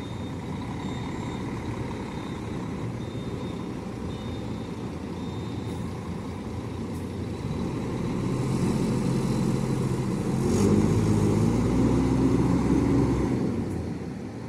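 A bus pulls out of Curvelo bus station in central Minas Gerais, its engine rumbling steadily and swelling louder near the end, with faint traffic and station noise around it.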